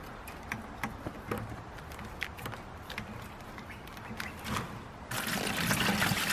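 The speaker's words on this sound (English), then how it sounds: "Then just go ahead and fill up your bucket." Water from a hose runs into a bucket at a chicken waterer setup, a soft, uneven trickle with faint splashes that swells into a fuller, louder pour near the end, close by with no talk.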